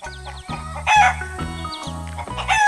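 Two brown chickens in a barn cluck and cackle close by in quick repeated bursts, while a regular stepped electronic tone pulses underneath like cartoon music.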